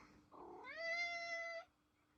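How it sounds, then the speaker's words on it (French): A single drawn-out meow from a cat, clear and fairly close, rising then holding steady before stopping abruptly in a quiet room. "Voilà, vous avez entendu mon chat."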